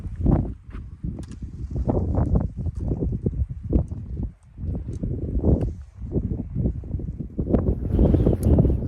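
Strong wind on a White Mountains ridge near Lakes of the Clouds roars and buffets the microphone in sustained low rumbling gusts, with a few brief knocks and rustles mixed in.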